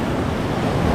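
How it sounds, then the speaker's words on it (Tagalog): Strong water rushes along a rocky shore, a dense, steady roar with heavy wind buffeting the microphone, close and loud with no voices. "Ang ganda, oh, lakas ng tubig."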